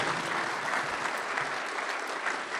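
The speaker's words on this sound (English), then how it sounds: "give yourself a nice round of applause for joining us tonight for the 24-25 Dave Cowens Awards" A ceremony audience at the 2024-25 Dave Cowens Awards gives a sustained round of applause, dense and even from start to finish with no voices over it.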